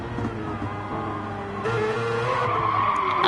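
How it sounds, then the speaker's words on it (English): A race car in a racing video game skids and spins out from too much acceleration, tires squealing in a sustained rising screech over the engine's drone, loud and close. "Oh, too much acceleration, and he's spun the car out."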